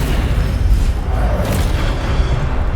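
Incendio fire spell in the Hogwarts Legacy video game: a loud, dense whooshing roar of flames that sustains without a break for a few seconds.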